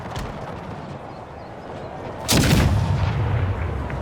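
Artillery gunners firing cannons in the Empire 2 strategy game, a single heavy boom that cracks out loudly after a stretch of low battlefield rumble and then rolls away in a long, booming tail.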